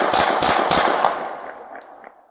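Rapid gunshots from a police shooting during an off-duty road rage incident in Austin, about three sharp loud cracks in quick succession at close range, followed by fading echoes and quieter clicks.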